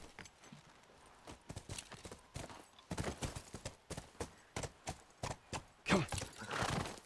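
Hooves clop in an uneven walking rhythm in the video game The Last of Us Remastered, a series of sharp hollow knocks growing louder toward the end, with a brief snort-like burst near the close.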